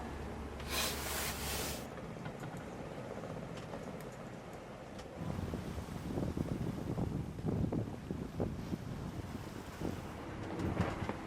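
A Najad 440 sailboat surges fast through the water in strong wind, with a steady rush of water along the hull and heavy wind buffeting the microphone, continuous and close.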